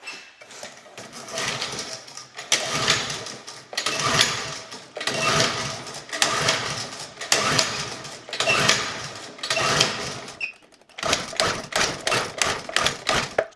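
Repeated pull-starts of a small gas engine that sat unused for five years, freshly fueled with the choke on: about seven rough rattling bursts of cord pulls and brief sputters, each around a second, loud and close, with no talk.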